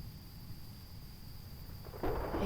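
A distant thunderstorm sends a low, soft rumble that swells into a louder roll of thunder near the end. There is no talking.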